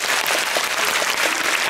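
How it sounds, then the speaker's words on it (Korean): Applause from a film-screening audience honouring actor Yoo Jin-yeol, a steady dense wash of many hands clapping close and loud throughout, with no voices over it. "유진열 배우에게 큰 박수 부탁드립니다."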